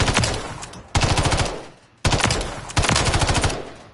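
Automatic gunfire rips from a weapon in Modern Warfare 3, three long rapid bursts of shots separated by brief pauses, loud and close with no voices.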